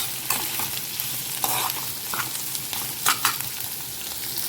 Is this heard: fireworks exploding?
no